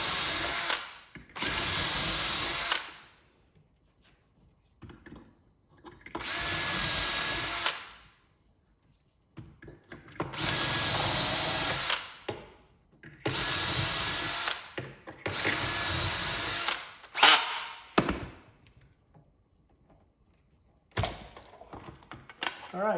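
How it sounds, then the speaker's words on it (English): A power drill bores shelf pin holes into a 3/4 inch board in five or six separate whirring bursts of a few seconds each, close and loud, with quiet pauses and brief clicks between them. "Now you just drill your holes."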